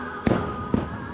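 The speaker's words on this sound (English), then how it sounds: "there's fireworks everywhere" Fireworks bursting over Disney World's Magic Kingdom, heard from the Astro Orbiter ride: two sharp, fairly distant booms about half a second apart over a steady ride hum.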